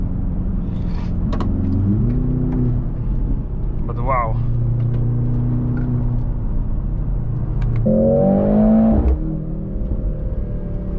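A powerful car, an AMG, BMW M or similar performance model, accelerates hard with a steady engine drone that climbs in pitch near the end, while a person talks over it inside.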